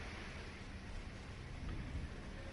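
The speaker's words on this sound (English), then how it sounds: "Lightning strikes" A thunderstorm in the game Remnant: From the Ashes pours heavy, steady rain with a deep rumble of thunder underneath, loud and continuous with no voices.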